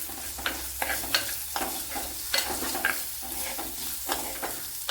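Onion sautéing in a pan at home, a steady sizzle with repeated scraping and stirring strokes at an irregular rhythm, close and moderately loud, no talking.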